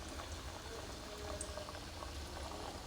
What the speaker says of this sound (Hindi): अब हम ये इसमें फ्राई करेंगे